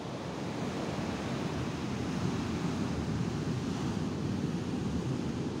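Big ocean waves break at Ngiriboyo beach in Pacitan, making a steady, loud roar of surf mixed with wind buffeting the microphone, unbroken from start to end with no voices.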